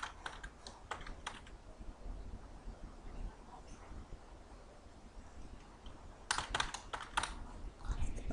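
Keys clatter on a computer keyboard as code is typed, quiet scattered taps with a few quick bursts of clicking, without speech.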